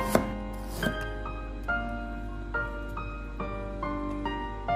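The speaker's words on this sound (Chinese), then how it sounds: "准备一块去皮的生姜，将生姜切成薄片" Peeled fresh ginger being sliced thin with a kitchen knife on a cutting board, a steady series of crisp chopping taps, about six distinct strokes spaced roughly a second apart, close and clear with no voices.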